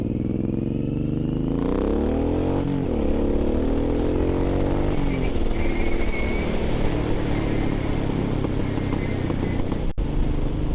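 A Suzuki M109R motorcycle's engine climbs in pitch, drops briefly as the rider shifts into second gear, then pulls up again. The loud, continuous engine drone is heard up close, with road and wind rush and no talking.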